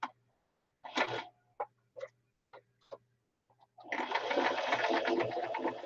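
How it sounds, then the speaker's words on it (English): A toy sewing machine, used mostly on paper, stitches in short separate bursts, then runs steadily for the last couple of seconds with a dense, close whirring rattle. "This is my play sewing machine that I use for mostly paper"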